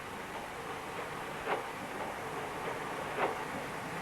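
A train runs along the main line near Cowley Bridge in Devon, giving a steady, broad rumble with a couple of faint, brief squeals or clanks from the wheels and no voices.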